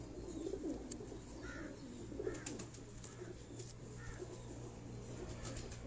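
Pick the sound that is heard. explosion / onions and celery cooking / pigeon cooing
pigeon cooing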